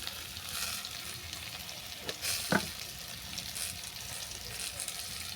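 Taro, potato and chopped tomato sizzling in a pan of hot oil while being stirred, a steady close frying hiss with a few brief scraping strokes partway through.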